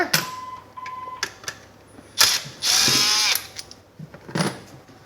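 A ratchet wrench works 12mm bolts off a car's intercooler, giving several quick bursts of close, sharp clicking separated by short pauses, with one longer steady run near the middle.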